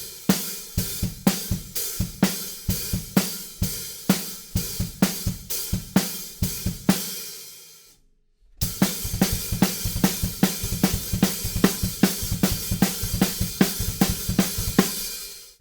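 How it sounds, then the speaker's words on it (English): A punk drum beat driven on the hi-hats for a song: fast steady cymbal hits over punchy kick and snare, loud and close, with a brief gap before the pattern resumes. "And then we move that same punk beat over to the hi-hats."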